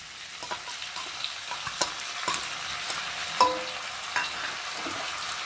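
Spice paste with chopped tomato, turmeric, chili powder and ground ginger, cumin and garlic fries in a pan for egg curry, a constant soft sizzle broken by repeated scraping stirs, close up and with no voices.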